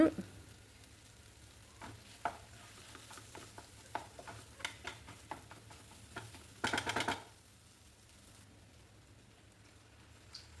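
A spoon scrapes and clinks against a frying pan of masala in quick, irregular strokes over a low sizzle, with a brief burst of rattling near the end.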